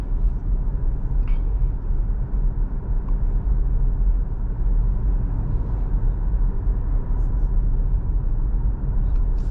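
A 2025 Kia EV6 GT Line long-range electric car drives in normal mode, giving a steady low cabin and road rumble that holds unbroken throughout with only faint, scattered higher ticks.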